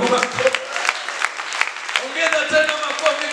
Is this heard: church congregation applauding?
yes